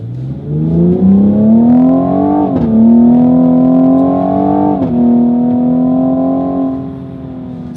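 A 2021 Cadillac CT5-V AWD on winter tires accelerates hard from a standstill, its engine note climbing steadily through two gearshifts that briefly dip the pitch, loud and continuous from start to finish.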